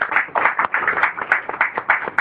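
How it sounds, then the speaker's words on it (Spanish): A church congregation claps its hands together in a quick, fairly regular rhythm, close and lively, with a few voices calling out faintly among the claps. "Denle palmas al Señor."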